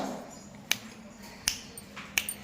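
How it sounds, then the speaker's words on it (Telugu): Three sharp finger snaps spaced under a second apart in a quiet classroom, each crisp and close, counted out during a listening game for school pupils. "ఎన్నిసార్లు చిటికలు వేస్తున్నాను జాగ్రత్తగా విని ఆ నంబర్ని మీరు కరెక్ట్గా చెప్పాలి"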